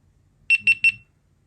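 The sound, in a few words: camera beep during factory reset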